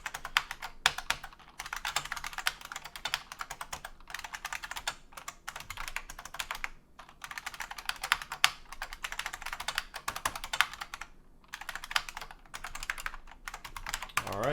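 Steady, fairly fast typing on a computer keyboard while a basic C program is written on Linux, with dense runs of close key clicks and short pauses throughout.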